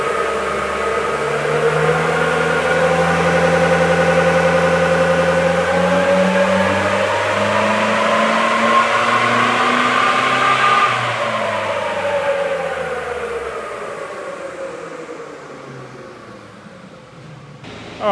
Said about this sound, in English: I'll show you what it looks like and sounds like on the dyno